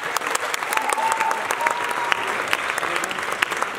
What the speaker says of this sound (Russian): Ветеранам надо громче аплодировать.